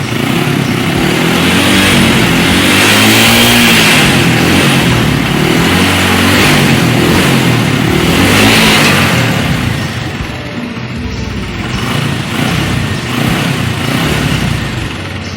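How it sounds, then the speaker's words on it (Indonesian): A motorcycle engine idles steadily during warm-up before a compression check, a loud close continuous run with a slight dip in level toward the end and no talking. "Setelah tadi motor sudah kita nyalakan"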